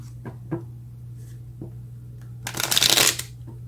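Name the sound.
shuffling tarot cards to draw clarifying cards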